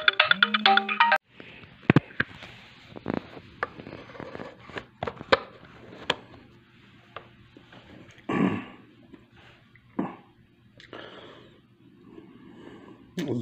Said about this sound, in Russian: Звонок